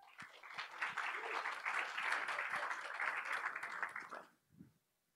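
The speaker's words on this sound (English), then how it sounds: "give him a warm round of applause" Conference audience at Resonate 2019 gives a warm round of applause for a speaker, dense clapping that swells and holds steady, then stops abruptly, followed by a brief low sound.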